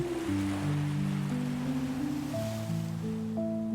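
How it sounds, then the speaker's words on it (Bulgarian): Ocean waves wash onto a seashore in a continuous soft surf, blended with slow, sustained gentle tones that shift pitch now and then. "Ритъмът на вълните"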